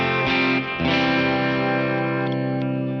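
Electric guitar run through a Line 6 HX Stomp with a dynamic plate reverb and delay, loud sustained chords ringing out into a long smooth wash of reverb with echoing repeats, played alone.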